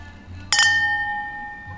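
Two 15-ounce highball glasses clink once, a bright sharp contact followed by a clear ringing tone that fades slowly, alone with no talk.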